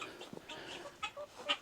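Guinea fowl and chickens on a farm give a few short, faint clucks and calls, spaced irregularly over a quiet background.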